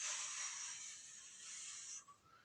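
A long, forceful breath blown out through the mouth during a slow leg exercise in basketball circuit training, a close, steady hiss lasting about two seconds before trailing off into quieter breathing.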